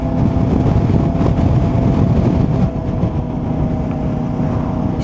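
A motorcycle cruises in sixth gear on a road, giving a loud, continuous engine and wind roar that dips slightly partway through and then holds steady.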